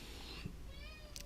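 A house cat gives a single short meow, faint and somewhat distant, against a quiet indoor background with no talking.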